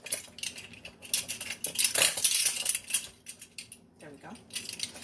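A tablespoon of sugar is added to biscuit dry ingredients in a bowl, with clinking and scraping of a metal spoon against dishware in uneven bursts at close range.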